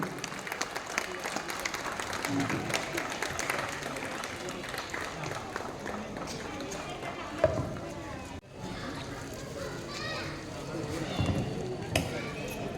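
Audience applause rings out at a Republic Day function in an apartment complex, a steady wash of clapping lasting several seconds with crowd noise and voices mixed in, briefly dipping before resuming.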